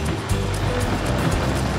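Water spills steadily over a constructed rock waterfall in a temple garden at Wat Suan Kaew, making an even, close rushing hiss with no break.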